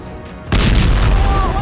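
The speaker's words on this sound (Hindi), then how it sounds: "इसके बाद एक हल्के धमाके की आवाज आती है।" A Hamas mortar round explodes near a building during the Israel-Hamas war. After a quiet half-second comes a sudden, heavy boom, followed by a loud, sustained roaring rumble that lasts to the end.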